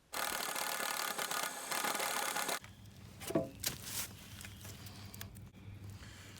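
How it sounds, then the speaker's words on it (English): Power drill fitted with a 7/8-inch paddle bit boring holes through a wooden board for a DIY greenhouse, a loud sustained whirring grind for a few seconds, then stopping, followed by quieter knocks and handling sounds of wood. "Using a 7/8 paddle bit, I made the holes for the 1/2-inch PVC."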